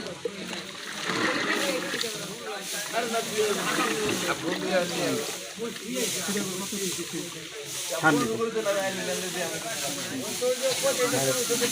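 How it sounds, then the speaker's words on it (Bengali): A spray machine mists a mix of molasses (chitagur) and water onto silage for cattle fattening, giving a steady, fairly loud hissing spray that runs throughout with some uneven splashy texture. "এখন স্প্রে মেশিনে পুশ করা হচ্ছে স্প্রে মেশিনে"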